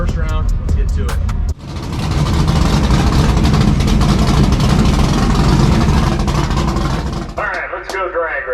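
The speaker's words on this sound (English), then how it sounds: "We're gonna go ahead and get the truck warmed up and take it for a couple warm-up laps." A drag racing truck engine warms up on a cold day at the strip, a loud, steady, broadband roar that begins abruptly after a brief pause and runs close and continuous before easing off, with voices near the end.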